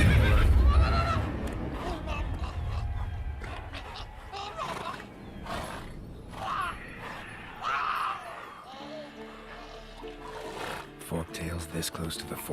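Horse in The Witcher video game neighing near the start amid game ambience and music, with voices talking over it.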